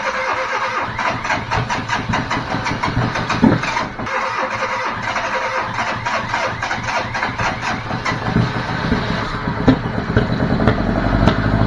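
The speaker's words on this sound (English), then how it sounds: "then we're on to starting up the engine and seeing how it runs" A rebuilt Fiat Panda engine starts up and runs, a steady mid-pitched mechanical chatter at close range that holds level throughout with slight surges near the end.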